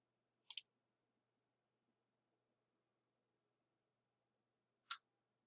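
Computer mouse giving two faint, crisp clicks several seconds apart against near silence.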